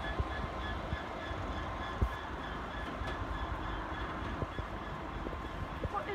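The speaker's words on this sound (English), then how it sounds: "It's class 66. Hauling whatever this is." Class 66 diesel locomotive hauling freight wagons, heard as a steady low rumble with faint rail clicks and a few knocks, continuous and moderately close.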